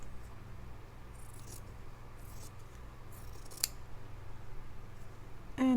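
Scissors snip through fabric for an apple slice snippet roll, a quiet, steady run of soft cuts up and down, close and alone with faint room noise.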